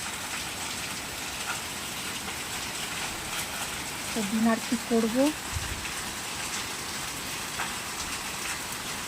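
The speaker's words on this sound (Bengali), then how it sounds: "দেখতে পাচ্ছেন কি জোরে নেমেছে বৃষ্টি" Heavy rain pours in a dense, steady roar; a voice speaks briefly midway under the downpour.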